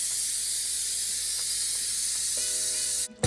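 Steam blasts from the pressure release valve of an Instant Pot in a steady, loud, continuous hiss, cutting off abruptly near the end.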